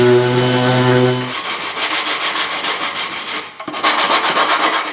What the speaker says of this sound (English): this morning I did some sanding to smooth them out.